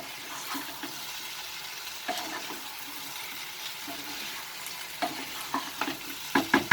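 Brinjal and potato frying in a pan with salt while being stirred, a steady low sizzle broken by scraping spatula strokes that grow louder and more frequent toward the end.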